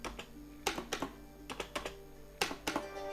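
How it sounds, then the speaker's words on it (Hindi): Keys clack on a CB GK 18 Firefly mechanical keyboard with red switches, with close, crisp, irregular keystrokes in small bursts and brief pauses between them in a quiet room. "यहाँ भी मैकेनिकल कीबोर्ड में मेम्ब्रेन कीबोर्ड के मुकाबले थोड़ा सा ज़्यादा साउंड जनरेट होता है।"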